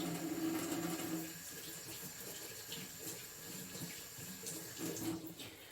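Tap water runs steadily into a sink while things are washed, a continuous close splashing hiss with a louder stretch at the start, no talking.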